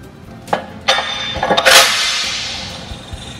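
Metallic clanks and knocks as a Fontaine kingpin tool is installed on a truck's fifth wheel, with a few sharp hits followed by a ringing, scraping metal clatter that fades slowly.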